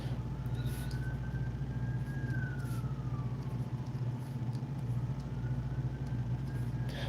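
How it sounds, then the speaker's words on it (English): A distant ambulance siren wails faintly, rising and falling, beneath a steady low rumble of nearby traffic or engine noise. "you hear that ambulance in the background?"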